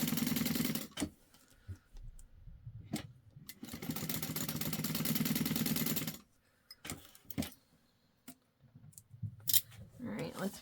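Home sewing machine stitching a fabric bag at a long 4.5 stitch length, running in two steady bursts of a few seconds each, with short pauses, clicks and handling noises between them.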